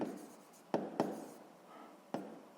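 A pen writes on paper during a sixth-grade math exercise, soft scratchy strokes broken by a few sharp taps, quiet and close with no talk.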